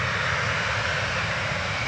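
Airliner jet engines running steadily at Manchester Airport, a loud continuous roar with a broad hiss that holds level throughout, close by and alone with no talk.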